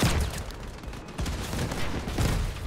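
Enemy sniper gunfire in the Crossout vehicle combat game, a dense continuous barrage of blasts and rumbling battle noise with a few sharper impacts standing out.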